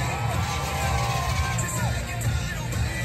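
Crowd at an evening truck event at a barn in Sanford cheering and whooping, a continuous mass of voices and shouts with scattered clapping, fairly distant and steady throughout.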